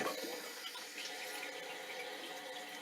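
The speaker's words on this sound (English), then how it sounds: "Alright, so we're going to turn the water back on." Water rushes into a toilet tank after the supply is turned back on following a wax ring replacement, a steady, faint hiss of filling water with no voices.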